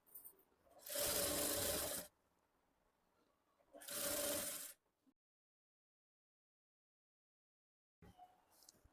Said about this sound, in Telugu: ఇలాంటి ఒక క్లాత్ తీసుకొని ఇలా స్టిచ్ చేసుకోండి